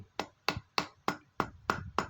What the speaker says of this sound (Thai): ตอกเลยค้อนนี่ดีตอก ไม่ต้องกลัวเสียหาย